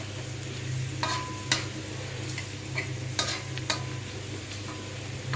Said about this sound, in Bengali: এই যে অনেক সুন্দর করে ভাইজা নিতেছি